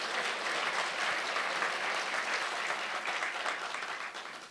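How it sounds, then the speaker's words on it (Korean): A congregation claps in thanks to the pastor at a Korean church men's mission dedication service. The full, continuous applause is moderately distant and tapers off at the end. "우리에게 은혜의 말씀 주신 목사님께 다시 한번 감사 박수 드리겠습니다"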